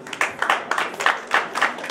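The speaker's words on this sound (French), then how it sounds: "Merci d'applaudir encore M." Audience applause at the Malijama awards 2018 ceremony, a steady patter of many hands clapping with a few louder rhythmic peaks, no voices.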